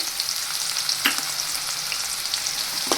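Onion, green garlic and cumin fry in hot oil with a steady, loud sizzle, and a couple of brief stirring scrapes break through the hiss.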